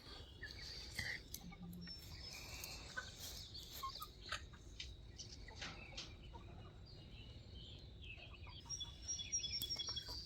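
Chickens and cockerels on a grassy lawn cluck and gobble intermittently at moderate distance, with scattered short calls over a steady outdoor background.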